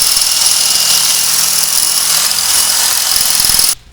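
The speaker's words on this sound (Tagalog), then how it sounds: "Ayan, barenahin natin ngayon kasanay." Power drill boring into a wooden plank during a plank installation, a loud continuous high whine held close for several seconds before cutting off abruptly near the end.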